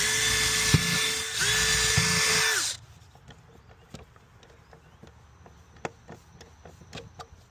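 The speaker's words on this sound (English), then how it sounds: "we'll drill our pilot holes." A power drill whirs loudly in two bursts that spin up and wind down, drilling pilot holes in a garage wall for solar motion lights, followed by quieter scattered clicks and handling noises.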